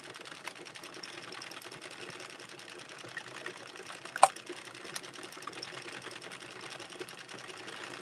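A hand-cranked circular knitting machine turns steadily, giving a continuous soft mechanical whir and rattle at a moderate, even pace, with one brief sharp click partway through and no talking.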